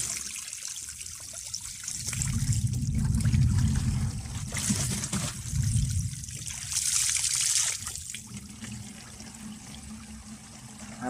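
Fresh drinking water trickles and pours while being fetched on a countryside farm, a steady close stream that swells louder midway and then eases back, with no voices.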